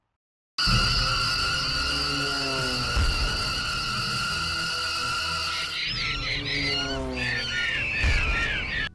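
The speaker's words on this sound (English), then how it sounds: "So all these birds are flying around the town and exploding into things." Many birds squawk and shriek loudly and continuously in a low-budget horror movie scene where flocks fly around a town, layered over a droning score that keeps going to the end.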